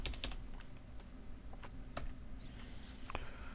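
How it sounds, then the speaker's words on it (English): Keystrokes on a computer keyboard while typing a search term, a short run of quick, faint clicks spread over a few seconds with no voices. "I just type in that"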